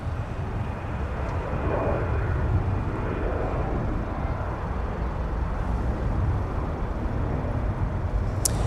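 A Delta airliner taking off from runway 17 at Minneapolis–Saint Paul airport gives a continuous, moderately loud engine roar that stays even throughout, heard alone without talk.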